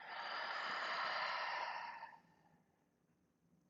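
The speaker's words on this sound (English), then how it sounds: "Take a big breath in and a big breath out." A big, close breath during a hamstring and glute stretching session, a long breathy inhale and exhale that fades into quiet, alone with no talking.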